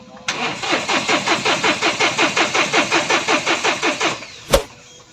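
A Mahindra Bolero Power Plus with a fuel control unit fault cranks steadily for about four seconds, the starter's rhythmic, evenly pulsing churn never catching, then stops with a short sharp click.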